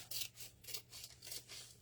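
Scissors trim excess decorative paper in slow, even strokes, four soft rasping snips spaced about half a second apart, quiet and close.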